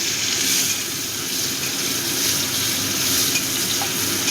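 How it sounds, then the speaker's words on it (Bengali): Chopped onion frying in hot oil with cardamom, cinnamon and garam masala, a loud, dense, continuous sizzle heard close and alone. "পেঁয়াজটা একটু লালচে করে ভাজবো।"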